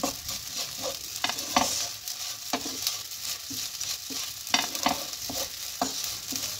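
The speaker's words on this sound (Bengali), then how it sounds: "এবার ভালোভাবে আমি এটাকে এর সঙ্গে নেড়ে নেব" Rice is stirred in a frying pan with turmeric, coriander powder and Kashmiri chili powder: steady scraping strokes, close and fairly loud over a constant background sizzle, with no voices.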